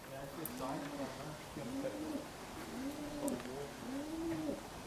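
A pigeon coos repeatedly inside an abandoned family farmhouse, its soft rising-falling calls coming in a steady series of about four phrases over a faint background hiss.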